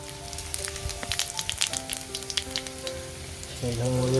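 Whole spices such as cinnamon, cloves, cardamom and cumin fry in hot oil with a close, crackling sizzle and scattered pops, swelling into a louder, denser hiss near the end.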